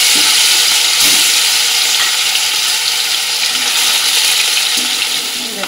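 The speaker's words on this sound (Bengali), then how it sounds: "রুই মাছগুলো দেখো আমি কিন্তু লাল লাল করে ভেজে নিচ্ছি" Rohu fish pieces fry loudly in a wok of hot oil, a dense, close, unbroken sizzle with a few faint utensil knocks, tapering slightly toward the end.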